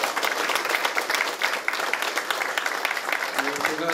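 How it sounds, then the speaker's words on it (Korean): An audience at a public policy forum on restoring Bongcheoncheon stream gives a round of applause, dense and steady though moderately distant, with a voice beginning to speak near the end. "다시 한번 큰 박수로 격려 한번 해주셨으면 좋겠습니다"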